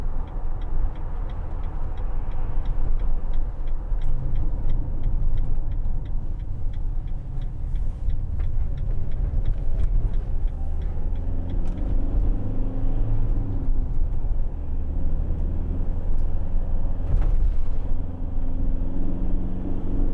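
A 2013 Citroen Relay 2.2 HDi 35 L2H1 panel van driving on the road, steady diesel engine drone and tyre rumble from inside the cab, with an even ticking, likely the indicator, through the first half.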